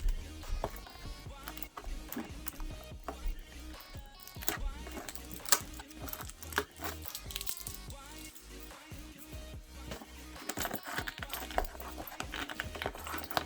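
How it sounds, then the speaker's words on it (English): Scratchy scraping and tapping as a blade cuts the tape on top of a Pulse 3D wireless headset box, quiet and close, with small rustling and clicking throughout. "the first thing we see is tape on the top, and we're just going to try to cut this"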